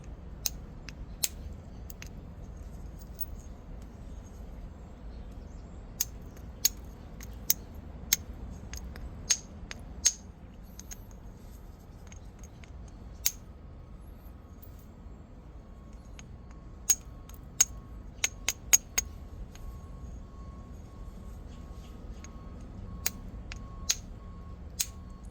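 Native float copper billet striking Edwards Plateau flint during knapping, sharp faint ticks and clicks scattered irregularly over a quiet background, some in quick clusters, no talk.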